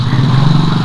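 A motorcycle engine on a street close by, a loud buzzing drone with a pulsing beat, heard briefly and alone.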